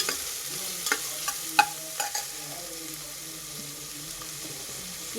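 Two medium chopped onions fry in a pan for a soya vegetable pulao, a steady sizzle under several sharp spoon-scraping clatters that fade to a quieter hiss.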